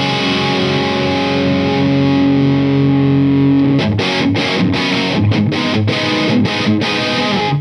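Big distorted electric guitar chords played loud through an Orange TH30 twin-channel amp head, a long sustained chord ringing for several seconds before a burst of choppy, rhythmic strummed chords.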